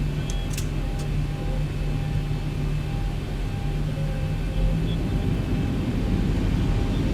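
Boeing 737 MAX airliner on its takeoff roll from runway 34 right, a steady low engine roar with a faint whine running under it and no one speaking.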